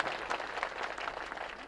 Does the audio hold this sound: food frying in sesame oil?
no